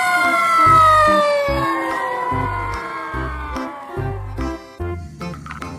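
A toy fire truck's electronic siren wails in loud, close rising and falling sweeps over a repeating electronic beat, with a few clicks and knocks near the end.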